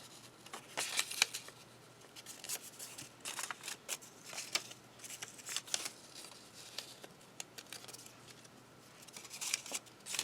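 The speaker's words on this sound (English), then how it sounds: "So I'm going to take all my little papers, fold them in half." Small paper pieces being folded in half for a matchbox mini junk journal, heard as a series of close, crisp papery creases and rustles in short bursts across the whole stretch, with no talking.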